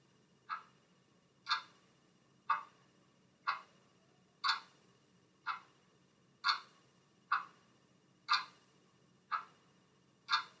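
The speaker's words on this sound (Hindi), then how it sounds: "घड़ी चल रही है" A clock ticks alone in a quiet room, about one crisp tick per second, evenly spaced and moderately close.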